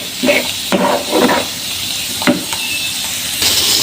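A spoon stirs bharta gravy with fresh mint in a pan, giving a few close scraping strokes over a steady sizzle, with no talking.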